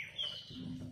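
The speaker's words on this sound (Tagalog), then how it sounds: "Gagaling na ng mga huni ng ibon" Bird chirps sound near and clear, a thin high call followed by brief lower twitters over soft background noise, with no talking.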